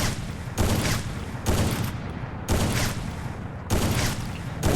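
A sniper rifle fires in the mobile video game Free Fire, four loud booming bursts spaced about a second apart, each cut off abruptly with short quieter gaps between, no talking.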